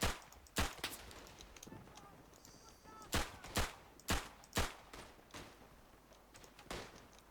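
Rifle shots in the first-world-war shooter Battlefield 1 on the Tannenberg map, a string of sharp, loud cracks spaced irregularly, some in quick pairs, over faint battlefield background.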